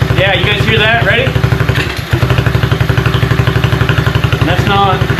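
A 125 Blazer motorcycle engine runs after a tune-up, a loud, close, steady put-put idle with rapid regular firing pulses, briefly dipping once before picking back up, while someone talks over it.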